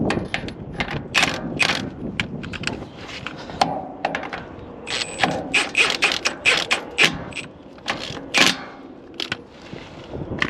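Wrench turning a thick drain plug on a Ford 8N tractor, giving a run of close, sharp ratcheting clicks and metallic knocks in irregular bursts, with no speech.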